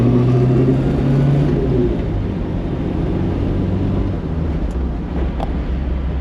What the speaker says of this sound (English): Great acceleration.